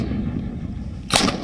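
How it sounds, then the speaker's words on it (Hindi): A 105 mm Indian Field Gun fires during an army exercise in the Thar desert, one sharp loud blast cutting through steady wind-like rumble. "रेगिस्तान में भारतीय सेना की बहुत कामयाब रही 105 मिलीमीटर की इंडियन फील्ड गन भी अभ्यास कर रही है।"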